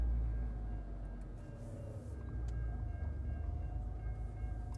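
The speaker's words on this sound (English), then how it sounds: "it just looks like we caught the train, so we're gonna have to stop" A train rumbles past at a distance, a low steady rolling drone with faint squeals and clatter, fairly quiet overall.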